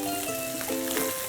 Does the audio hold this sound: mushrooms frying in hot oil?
yes